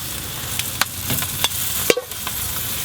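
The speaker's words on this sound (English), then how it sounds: "sear up over these hot coals. Hopefully get some crispy skin on them" Chicken wings sizzle and crackle softly over hot coals on a Kamado grill, with scattered pops and a brief clatter, close by and without talk.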